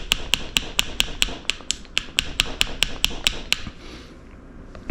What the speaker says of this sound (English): I don't know where my ball peen hammer went, so I'm using a carpenter's hammer.